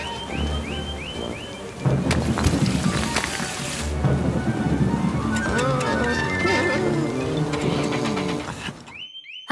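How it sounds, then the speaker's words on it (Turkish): A thunderstorm in a children's cartoon about a repair garage and trucks: steady rain with thunder crashes around two and four seconds, mixed with music and cartoon sound effects, before falling silent near the end. "Fırtına korkutucu olabiliyor biliyorum."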